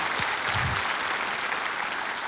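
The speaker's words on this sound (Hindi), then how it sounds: "तालियां बज जाए इनके लिए।" Studio audience applause on a television quiz show set, a dense steady burst of clapping that fills the whole stretch at full level.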